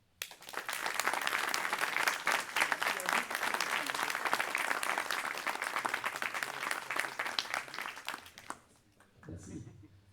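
An audience applauds members of an association at a cheque presentation ceremony, dense sustained clapping for about eight seconds that then fades out, followed by a few faint sounds.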